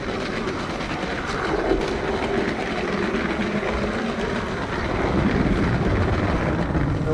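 A LEGO toy train running in a home-built train yard, a continuous close mechanical rumble and rattle with faint clicking that holds steady throughout, with no talking.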